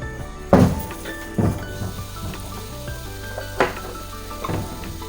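Duck meat with ginger being sautéed in a pan sizzles underneath a few loud clanks and thunks of a utensil stirring against the metal, spaced irregularly over a low steady hiss.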